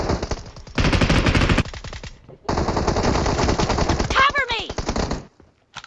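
Rapid bursts of automatic gunfire from PUBG Mobile on the Erangel map, loud and close, come in two long strings separated by a short pause, with a brief whistling sweep near the end.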